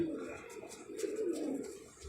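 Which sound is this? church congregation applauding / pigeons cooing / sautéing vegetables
pigeons cooing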